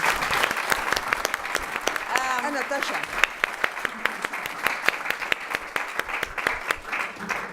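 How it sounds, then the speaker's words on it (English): A conference audience applauds a democracy discussion panel with strong, continuous clapping throughout, and a voice briefly speaks over it partway through. "can you give this panel and the panel of the first round a big applause?"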